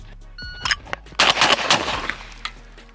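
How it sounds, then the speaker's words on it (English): Browning Silver semi-automatic shotgun fired at clay targets, a few sharp loud shots in quick succession with short ringing tails, close by outdoors. "How fast can I hit them?"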